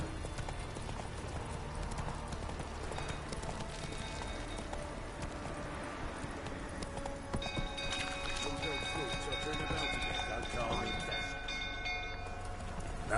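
Roach the horse gallops in The Witcher 3 during a castle-fire scene, with a steady clip-clop of hooves running through the whole stretch under dense game music and effects, and voices speaking over it.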